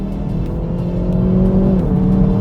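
A 2022 Hyundai i30N with a DCT gearbox accelerating hard, its engine note climbing loud and close before a quick gear change drops the pitch and the revs build again.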